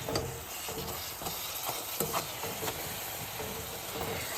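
A spoon works steadily through a thick fried apple pie mixture, giving a soft, continuous scraping and stirring texture with faint sizzly hiss and occasional light knocks against the bowl.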